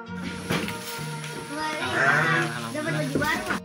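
Sheep bleat during a livestock delivery in Kuningan, several loud wavering cries rising close by while people talk over them.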